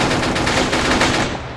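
Rapid gunfire in ARMA 3 sounds as a loud, close burst of quick shots that fades out at the end, with no voices over it.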